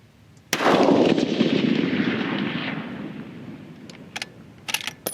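A single loud, close rifle shot fired outdoors during charge weight load testing, a sharp crack followed by a long rolling boom that slowly fades, then a few faint clicks and knocks near the end.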